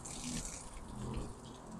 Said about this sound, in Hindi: इसका मैं थोड़ा थोड़ा पानी डालता हूँ क्योंकि आज गर्मी है